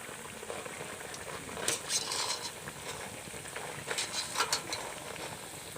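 Suji and raw potato snacks sizzle steadily in hot oil, a continuous close crackle with a few brighter spattering bursts.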